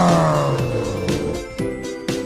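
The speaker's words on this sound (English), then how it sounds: "I am flooring it and revving the engine, listen to this." A car engine is revved hard in neutral with the parking brake set, its pitch sweeping down and then jumping up in repeated bursts. Loud and close, with no talk.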